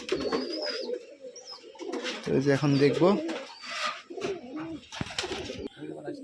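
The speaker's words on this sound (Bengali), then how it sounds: "এই যে একজোড়া সাদা কবুতর দেখতে পাচ্ছি আমরা প্রথমেই" Rajshahi Giribaz pigeons coo in soft, rounded bursts close by at a pigeon farm, mixed with chatter and a person speaking.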